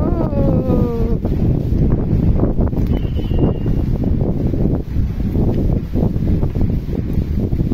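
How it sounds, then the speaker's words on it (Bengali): A strong pre-monsoon storm wind, like a nor'wester, sweeps through a Bengali village: a loud, continuous roar buffets the microphone, with rustling and gusting that never lets up. "দেখেন কিরকম ঝড় হচ্ছে"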